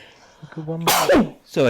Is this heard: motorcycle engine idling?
no